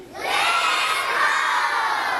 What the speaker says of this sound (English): Everyone shouted.